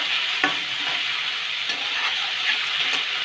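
Fried potato pieces are stirred into a fish curry in a pan, giving a steady close sizzle broken by several soft spoon scrapes.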